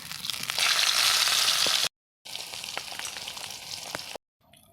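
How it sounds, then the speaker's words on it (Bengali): Cumin seeds frying in hot oil in a pan, with a loud, steady crackling sizzle that drops out briefly twice, during preparation of a fish dish with potatoes and drumsticks. "কিছু জিরা তেলে ভেজে নিচ্ছে"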